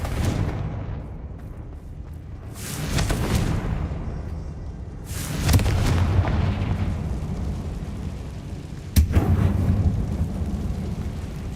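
A Confringo blasting spell explodes in a mine in Hogwarts Legacy. Several loud booming bursts follow one another over a rumbling game background, with a sharp, close blast near the end.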